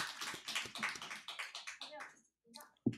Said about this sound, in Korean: 박수로 격려하시기 바랍니다.